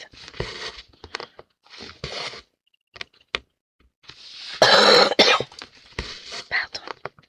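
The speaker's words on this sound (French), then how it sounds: "je tousse encore un petit peu quand même" A woman coughs repeatedly in short, close bursts of varying strength, with quiet pauses between them and one louder, longer fit in the middle.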